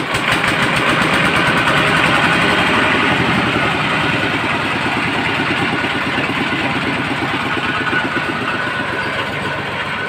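Converted Kubota walking tractor engine, rebuilt as a ride-on farm tractor, runs steadily with a close, loud, even chugging idle throughout, no voices over it.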